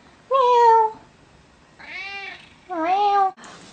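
A cat meows three times in separate drawn-out calls, close and clear, followed by a brief burst of hiss.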